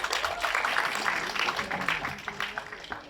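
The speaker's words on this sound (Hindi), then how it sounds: "भूषण जी को एक बार जोरदार ताली चाहिए" A crowd at a film teaser launch event applauds with steady, dense clapping for about three seconds, with a few voices mixed in.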